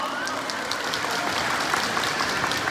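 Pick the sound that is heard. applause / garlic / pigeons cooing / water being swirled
applause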